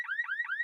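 A car alarm wails in rising, warbling electronic sweeps that repeat about three times in under a second, loud and close with no other sounds.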